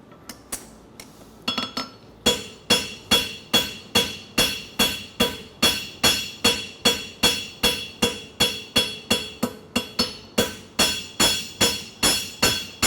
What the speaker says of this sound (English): now we can come up with the corner of the hammer up the middle of the clip to draw it up to a point.